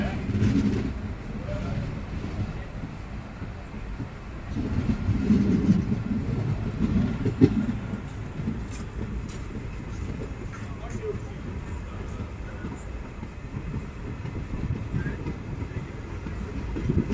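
Inside the Salem–Chennai Egmore superfast express passenger train in motion, a steady low rumble with rattling and occasional clicks from the carriage, with a voice speaking faintly in the background.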